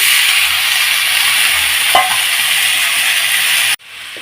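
Tomatoes tipped into shallots already frying in a pan for a tomato kuzhambu, giving a loud, steady broadband sizzle with a brief stirring scrape midway, then the frying drops away sharply near the end.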